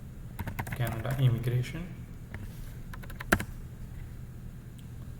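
Quick, uneven clicks of fingers typing on a computer keyboard, close and crisp, with a short burst of speech early on and a louder keystroke near the end.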